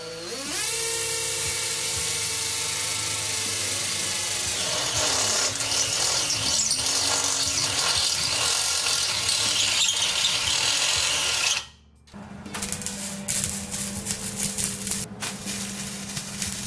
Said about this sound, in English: in order to drill this big of a hole, and we're using this stepped drill bit